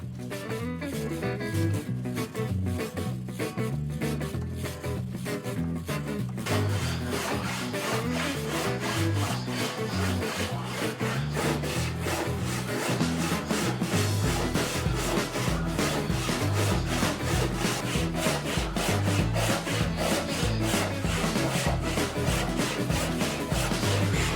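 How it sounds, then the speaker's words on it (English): Hand saw cutting through wood for the female half of a bridle joint on a picnic-style dining table, a steady rhythmic back-and-forth rasp, close and loud, continuing without pause. "once I cut the female part of this bridle joint"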